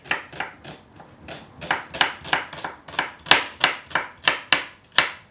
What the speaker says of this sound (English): now I'm just going to chop up the onions